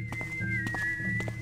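Two characters in the video game Thief Gold whistle at once, a thin sustained tune over low ambient game sounds, with soft footstep-like thumps underneath.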